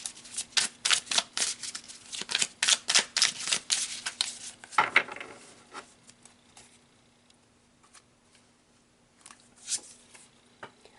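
Tarot cards being shuffled, a quick run of crisp riffling flutters close by, then a few scattered soft taps and card slaps against near silence.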